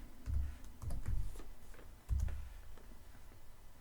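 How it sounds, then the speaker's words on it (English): Typing on a computer keyboard while entering text in Excel, a quick run of close key taps and clicks in short bursts with a pause in the middle, over a low background hum. "I'm going to type attendance"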